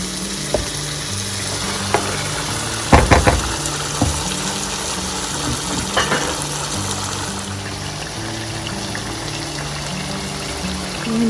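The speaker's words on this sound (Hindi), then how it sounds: "चिकन ऐड कर रही हूँ।" Chicken goes into a hot pan of spiced oil for dhaba-style biryani, a steady sizzle and crackle with a few clattering knocks of pieces and a utensil.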